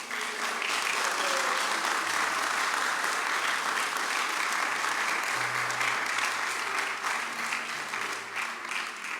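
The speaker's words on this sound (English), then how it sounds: "Give yourselves a round of applause." Graduating students at a St Vincent Grammar School graduation ceremony clap for themselves in a sustained, dense round of applause that fills a hall, steady and loud throughout with faint low hum beneath.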